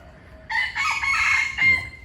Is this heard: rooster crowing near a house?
yes